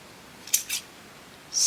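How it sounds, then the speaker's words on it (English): Fabric scissors snip into previously cut fabric: two quick, crisp, close cuts in succession, followed by a brief rustle of the cloth, with no talking. "Let's get my fabric scissors."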